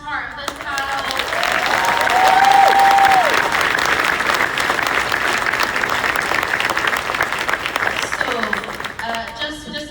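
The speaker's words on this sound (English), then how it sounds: "Round of applause for the first part of this panel." A large crowd at a Goonies fan expo panel breaks into loud, dense applause that is sustained for ten seconds and swells early on, with a cheer or whoop rising above the clapping near the start.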